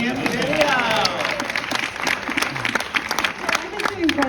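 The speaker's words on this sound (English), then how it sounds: "Let's do a Yeah. round of applause for Kim." Audience at a Q&A screening event in a New York cinema, clapping and cheering continuously with shouts and talk mixed in throughout.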